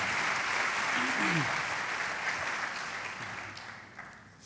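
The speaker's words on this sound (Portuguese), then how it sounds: "Aplauda Jesus" A church congregation claps together during an evening worship service, a dense, sustained wash of applause filling the space and slowly tapering off near the end.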